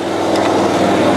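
Twin engines on a trailer-mounted hot and cold water sewer jetter drone loudly and steadily at close range, a dense mechanical hum holding through the brief moment as they throttle down.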